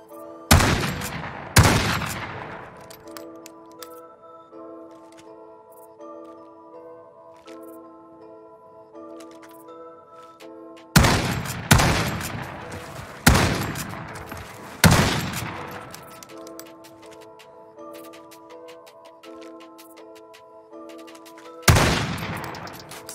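MK2 Carbine shots in Call of Duty ring out as sharp, loud single reports spaced irregularly, each trailing off quickly, over a steady musical backdrop with ticking game sounds between bursts.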